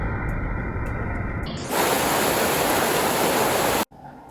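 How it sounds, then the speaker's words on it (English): Water pours steadily at Donut Falls, a loud, close, continuous hiss and rush that swells after a moment and then cuts off abruptly. "Just the sound of the water is hypnotic."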